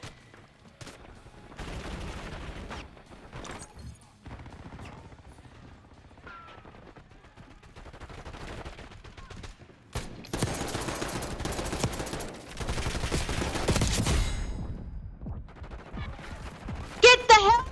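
Gunfire in the multiplayer shooter Call of Duty Black Ops 6: sustained automatic bursts and blasts that swell and recede over a steady din, growing loudest near the end.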